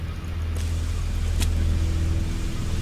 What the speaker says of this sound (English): Why was there a car noise?